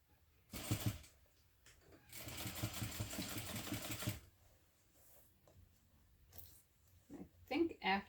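A sewing machine stitches a mini backpack in two whirring bursts, one short and one longer, with quieter handling noises around them and a voice talking nearby.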